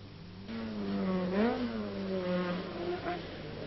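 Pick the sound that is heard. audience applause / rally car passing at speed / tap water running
rally car passing at speed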